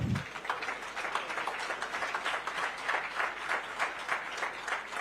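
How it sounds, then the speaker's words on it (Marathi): A crowd applauds at a cyber hackathon award ceremony, a steady, dense burst of clapping that fills the room and holds evenly throughout. "जोरदार टाळ्या होऊन जाऊ देत"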